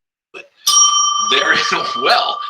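A bell rings with a bright sustained ring that carries on for about two seconds while a person talks over it.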